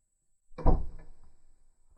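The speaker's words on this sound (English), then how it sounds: "Let's shut the door, see if I can quiet it down a bit." A door pulled shut in a garage workshop, a single solid thud with a short rattling decay, fairly quiet against near silence.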